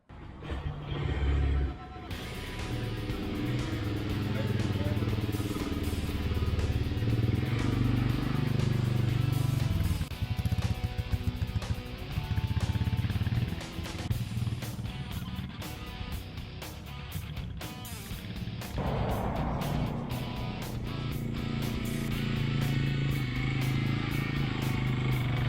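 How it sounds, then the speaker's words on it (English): A Honda Fourtrax ATV quad taking a short spin through a yard, its engine droning steadily close by and rising and falling with throttle, with brief voices over the motor. "Me and Eleanor just took Fourtrax for just a little spin through the yard."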